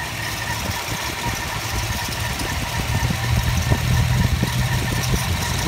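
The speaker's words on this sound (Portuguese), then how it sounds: "olha o que acontece conforme eu subo a rotação do motor" A 1969 Ford Galaxie 500 engine runs steadily, its low rumble building slightly in intensity toward the end as the revs climb, with no talking.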